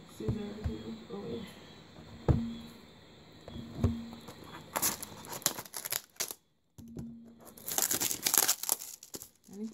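A package from an eBay haul is opened with scissors. Crinkly plastic packaging crumples and tears up close in irregular bursts, with short sharp snips and brief pauses. Faint voices are audible underneath.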